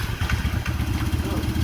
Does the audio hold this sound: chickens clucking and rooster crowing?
no